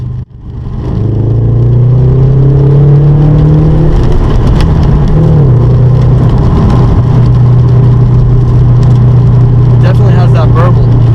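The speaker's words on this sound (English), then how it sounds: "Let's get a good feel for the exhaust note first." A 2014 Subaru BRZ with an aftermarket exhaust growls loudly and close up, its engine note rising and settling through revs in a low, burbling drone.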